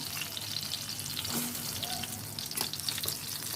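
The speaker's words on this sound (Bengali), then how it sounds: "এইভাবে সবগুলো বেগুন আমরা ভেজে নেব।" Slices of aubergine sizzle and crackle in hot oil, a steady frying hiss with occasional pops and a few soft utensil clinks.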